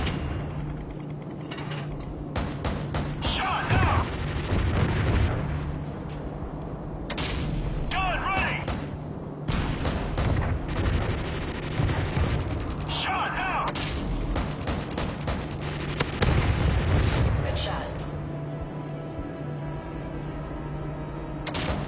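AC-130 gunship fire in Modern Warfare 3 on the Outpost map, with booming cannon blasts and gunfire bursts repeating in clusters over a steady game soundscape, while voices talk at times.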